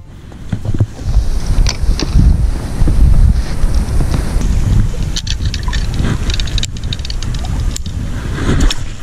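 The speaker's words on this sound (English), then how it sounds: "A bit windy." Strong wind buffets the microphone in loud rumbling gusts, rising and easing over several seconds, with faint clicks and outdoor noise beneath.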